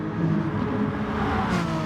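Renault Megane Trophy race car engine humming steadily at close range, a continuous broadband drone with no break and a faint rise in pitch near the end, and no talk over it.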